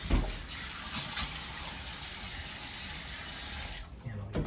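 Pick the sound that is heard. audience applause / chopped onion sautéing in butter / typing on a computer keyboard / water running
water running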